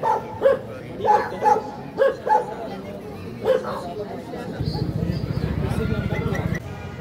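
A dog on the Darjeeling Mall barks in a series of sharp, fairly close yelps, followed by a busier stretch of crowd noise and chatter.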